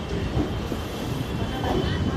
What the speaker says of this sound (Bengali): নৈহাট থেকে ছেড়ে দিল ট্রেন